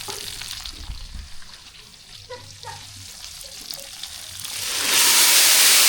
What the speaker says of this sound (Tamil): வரமிளகாய் நல்லா பொரிஞ்சிருச்சு ஜீரகம் சேர்த்துக்கலாம் ஜீரகம் நல்லா பொரிஞ்சு கருவேப்பிலை சேர்த்துக்கலாம்